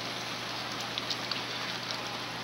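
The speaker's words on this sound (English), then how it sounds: "Owen, it's raining." Rain falls steadily during an outdoor cooking session, a dense, even hiss with a few faint drop ticks and no talking.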